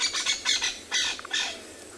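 A crested francolin gives its harsh, repeated alarm call on a sunset safari, a series of loud, raspy squawks coming in quick bursts close by, with no voices.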